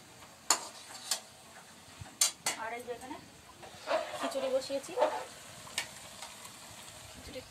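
Khichuri prasad with cabbage cooking in a pot during a Kartik puja at home, heard as a soft background sizzle broken by scattered spoon scrapes and metallic clinks. Voices are faintly present.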